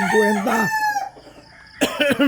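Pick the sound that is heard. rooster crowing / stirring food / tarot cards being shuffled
rooster crowing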